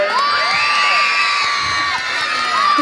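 A crowd at the Amazing Sireyna 2024 national costume pageant cheers, whoops and shrieks loudly, with high excited voices rising and falling in a continuous roar.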